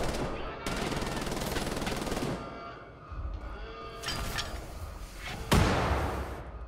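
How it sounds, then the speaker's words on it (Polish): Bursts of rapid gunfire and blasts roar through Wolfenstein: The New Order, loud and dense, ending with a sharp explosive crack. "Coś tu wybuchło."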